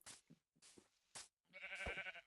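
A sheep in Minecraft Pocket Edition gives one short, buzzy, game-style bleat near the end, after a few brief clicks and thuds from the game.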